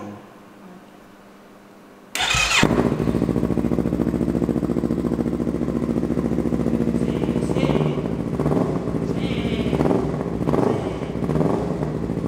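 A motorcycle fitted with a full aftermarket exhaust roars to life after a quiet moment, then holds a loud, deep, throbbing idle with blips of revving, close to the microphone.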